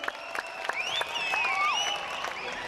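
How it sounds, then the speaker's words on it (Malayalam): Audience applause at a Malayalam Mappilappattu stage show, steady clapping from the crowd with an electronic tone and squealing sweeps of sound over it. "ഡോക്ടർ ഡാനിക്ക് നല്ലൊരു കൈയടി കൊടുക്കുക."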